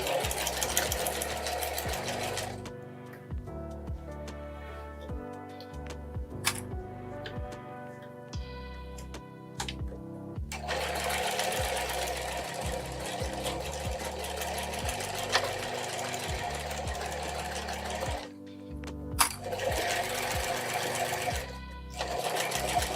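A sewing machine stitches the boxed bottom of a quilted tote in long steady runs, pausing briefly between bursts of rapid needle chatter, close and loud.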